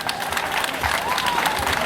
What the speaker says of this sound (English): can we give the Lagos State government another round of applause, please?